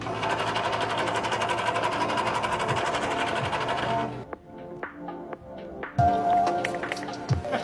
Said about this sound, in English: Every amp and Fuse Pro lens gets a little engraving on it.